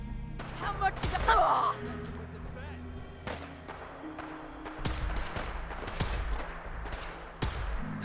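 Gunfire in Fallout 4 during a hectic fight: several sharp shots ring out at irregular intervals, crisp and close, with a brief burst early on, over ambient game noise and occasional voices.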